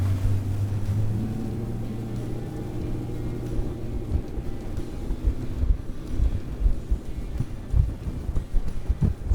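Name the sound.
pontoon boat engine running on water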